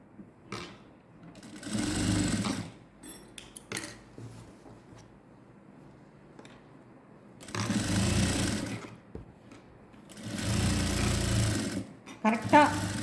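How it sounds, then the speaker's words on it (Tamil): A sewing machine stitching the folded neckline of a net blouse runs in three short bursts of fast, whirring needle chatter, close and loud, with a voice talking in the pauses between runs. "இப்போ நான் இந்த கழுத்தை ஃபோல்ட் பண்ணி தையல் போடுறேன்."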